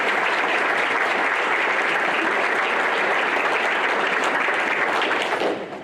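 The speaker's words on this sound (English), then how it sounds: "let's give those guys another big round of applause." A school board meeting audience gives a big, continuous round of applause for honorees, a thick even wash of clapping held for nearly six seconds before fading out at the end.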